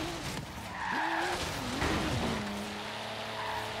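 A tuned Toyota Supra in the Forza Horizon racing game revs with a sweeping engine note, and its tires squeal and skid in a drifting slide, loud and continuous throughout.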